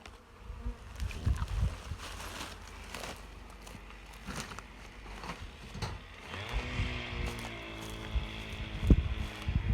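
Steady honeybee buzzing fills the air around an opened village hive during inspection, with scattered clicks and knocks of handling and a higher droning layer joining midway.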